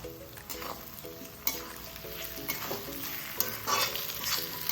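Tomatoes sizzle and fry steadily in a pan, with a constant crackling hiss and occasional stirring scrapes, no talking.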